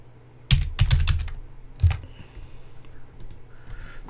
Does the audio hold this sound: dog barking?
no